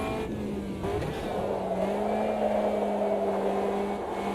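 Racing-sim car engine at the Sim Pub, held at a steady drone with pitch shifts as the driver drops down through the gears, revs blipping on downshifts to lock the rear axle; continuous and close, no talk.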